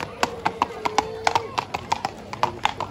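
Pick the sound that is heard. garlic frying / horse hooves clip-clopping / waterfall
horse hooves clip-clopping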